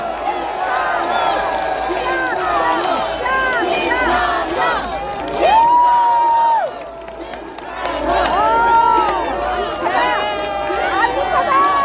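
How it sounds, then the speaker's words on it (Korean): A large outdoor election campaign crowd in Iksan cheers and shouts loudly for a lawmaker being introduced at a rally for candidate Lee Jae-myung, with sustained roaring voices, rhythmic chanting swells and clapping near and all around. "박수 한번 해주십시오"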